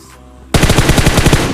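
Automatic gunfire in PUBG Mobile bursts in after a quiet half second, a loud, fast string of about a dozen evenly spaced shots close by.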